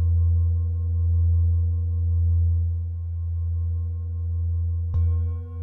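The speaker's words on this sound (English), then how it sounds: "The singing bowl produces lower tones, which correlate with this part of the body." A large Tibetan singing bowl, struck with a bigger mallet, sustains a steady, deep low hum with stacked overtones; a fresh strike lands near the end and renews the ringing, with no voices.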